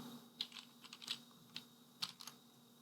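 Code is typed on a computer keyboard, close and quiet, as a short irregular run of key clicks with uneven gaps.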